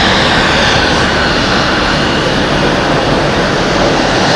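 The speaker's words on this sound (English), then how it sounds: "777 from Swiss taking off right now." A Swiss Boeing 777 jet taking off at Zurich Airport, its engines roaring loud and steady throughout without a break, with no talking.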